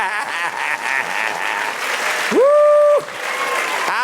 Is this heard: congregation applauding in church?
yes